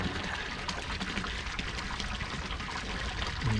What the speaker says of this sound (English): And listening to that burbling water just below.